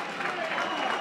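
A crowd at a lucha canaria wrestling match in Fuerteventura applauds a wrestler with a brief, steady, dense patter of clapping.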